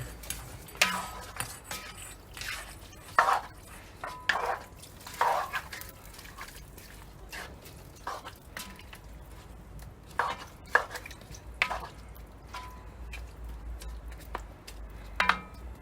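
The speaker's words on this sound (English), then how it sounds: "We'll give this a bit of a stir, the meat." Smoked oxtail meat being stirred inside a Weber Smokey Mountain smoker, giving a run of irregular knocks, clacks and scrapes, close and fairly loud, with short gaps between strokes and no talk.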